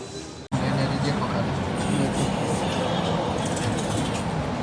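After a brief silence, a metro train arrives and brakes, its steady rumble and rolling noise filling the space, loud and continuous, with voices faintly underneath.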